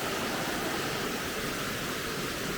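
A woodland waterfall pours in a constant, full, hissing rush, steady and close throughout with no other sounds standing out.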